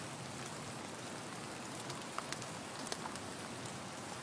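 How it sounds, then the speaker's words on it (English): Steady rain pattering on a surface as a background layer for a color bass and jazz music track, a dense even hiss of drops with a few sharper close drips, heard alone. "Up next, I have this rain"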